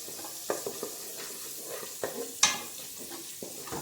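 Whole ginger and green chilies sizzle in a hot pan for South Indian pongal, with a soft frying hiss under a few sharp spoon scrapes and taps as they are stirred.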